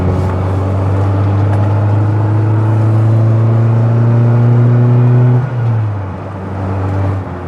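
A Rover 100 car engine drones steadily under load while driving at around 50 mph, a loud, continuous low hum with rising pitch, then dipping briefly as revs drop near the end.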